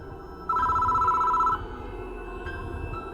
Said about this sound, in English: The phone on the desk is ringing. I should answer it.